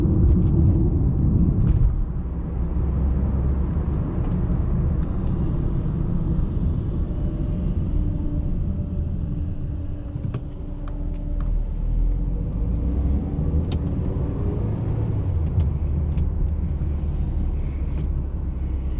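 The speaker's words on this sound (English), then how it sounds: "I'm gonna drive it and see how it drives and feels" A Mercedes-Benz A220 drives along with a steady low road rumble and engine hum, the tone easing and building again as it travels, with a few faint clicks over the top.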